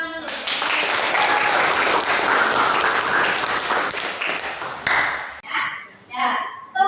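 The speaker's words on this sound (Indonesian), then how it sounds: "Tepuk tangan dulu." A classroom of students applauds a classmate, a loud burst of dense clapping that fades near the end into scattered claps and voices.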